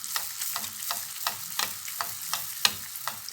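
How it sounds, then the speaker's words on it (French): Sfenj dough frying in hot oil while a spoon scoops oil over it, giving a steady close sizzle with soft repeated spoon scrapes and clinks at an even rhythm. "Je commence directement à lui jeter de l'huile dessus à l'aide d'une cuillère."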